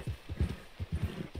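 Horse hooves in Red Dead Redemption 2 clip-clop in a steady, rhythmic gait, close and fairly loud, about eight thudding beats with no talk over them.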